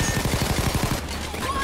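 Rapid automatic gunfire in the video game Payday 2, a fast burst of about a dozen evenly spaced shots lasting around a second, then a short ringing tail.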